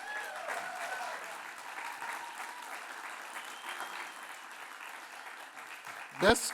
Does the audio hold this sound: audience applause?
yes